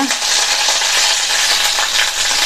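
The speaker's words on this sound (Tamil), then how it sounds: "எல்லாத்தையும் லைட்டாக வதக்கி விட்டுக்கலாம்." Fennel seeds, ginger, halved large garlic cloves and green chillies sauté in hot oil, giving a steady close sizzle with light stirring for the whole stretch, alone without talk.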